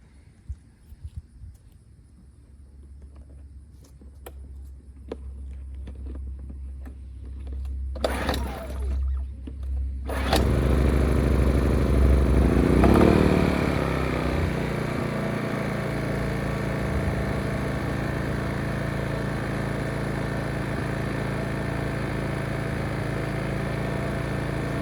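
Genmax GM1200i 1200-watt inverter generator in eco mode, its steady mid-level engine drone settling in after a few sharp knocks and a brief louder surge near the start, then droning on continuously at close range.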